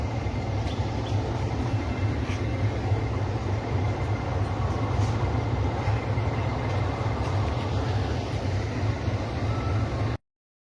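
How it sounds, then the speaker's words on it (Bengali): The Dhauli Express train rumbles steadily into platform one at Shalimar station, a low continuous roar of wheels and carriages rolling in, with no talking. "এটি শালিমার স্টেশনের এক নম্বর প্ল্যাটফর্মে ঢুকলো পৌনে নটা নাগাদ"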